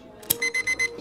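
Bomb timer beeping: one sharp click, then a rapid run of four evenly spaced electronic beeps, close and clear.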